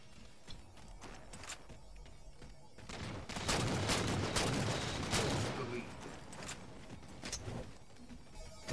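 Gunfire in a Halo 4 multiplayer match, with a burst of rapid shots in the middle and scattered single cracks before and after, moderately loud.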